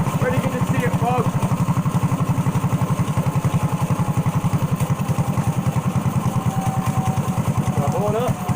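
An old go-kart or mini bike engine runs nearby at a steady, fast, chugging idle, thumping evenly throughout, with brief background sounds on top.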